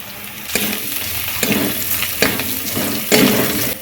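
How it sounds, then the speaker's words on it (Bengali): Spices sizzle and fry in hot oil before chilli and turmeric powder are added, with a few stirring scrapes at regular intervals over the continuous crackling hiss. "সমস্ত মশলা ভালোভাবে ভাজা হয়ে গেছে এবার দিয়ে দিচ্ছি লঙ্কা গুঁড়ো হলুদ গুঁড়ো"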